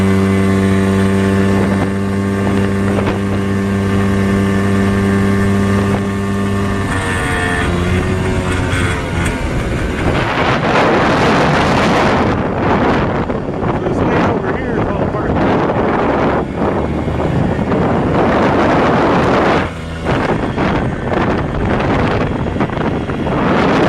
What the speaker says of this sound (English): gonna put my four-wheeler into gear